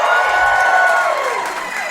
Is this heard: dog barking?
no